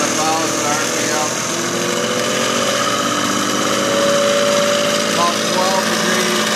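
A Sun 404 distributor tester spins a GM HEI distributor with a continuous loud motorized whine and hum, holding steady and then rising slightly in pitch as the speed increases.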